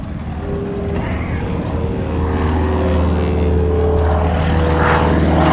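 A wing-walking propeller aircraft flies low and slow below 150 knots at Sywell Airshow, its engine a loud, steady drone that slowly builds as it nears.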